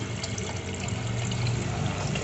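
Water pours steadily into a new aquarium tank through a small outlet, a continuous close gurgling trickle with no pauses.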